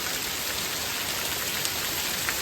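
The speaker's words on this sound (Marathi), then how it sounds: "एवढा पाऊस जोरात चालू आहे" Heavy rain pours down steadily, a dense continuous hiss of drops hitting surfaces with no voices.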